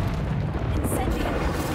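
In Hogwarts Legacy, the Incendio fire spell is cast with a loud, rumbling, fiery whoosh that sustains heavily throughout, with a bright crackling burst partway in.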